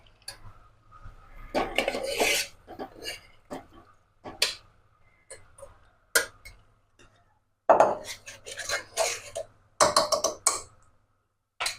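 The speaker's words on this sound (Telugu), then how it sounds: "సో పప్పుని కొంచెం పప్పు గుంతంతో రుద్ది వేసుకుందాము" A dal masher works cooked lentils for sambar in a metal pot, giving irregular scraping clanks and knocks in short bursts separated by quiet gaps.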